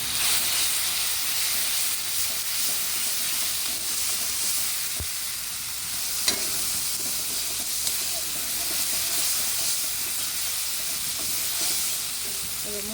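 Mustard and coconut paste hits a hot pan and sizzles steadily, a loud continuous hiss of frying with a couple of faint clinks, no voices.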